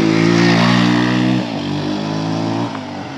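An older motorcycle engine runs loud and close, a steady throbbing drone that holds strong for over a second, then eases slightly and dips again near the end, with no voices.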